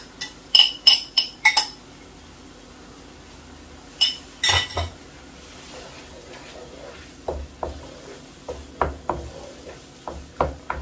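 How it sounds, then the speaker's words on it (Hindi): A metal spoon stir-roasts boiled, mashed turnip in a pan, making rapid clinks and scrapes against the metal in short bursts. A faint low sizzle runs underneath between the knocks. "बस अभी इसको अच्छी तरह भून लेंगे 4 से 5 मिनट तक।"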